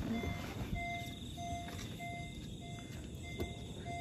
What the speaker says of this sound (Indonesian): akan ada buzzer yang berbunyi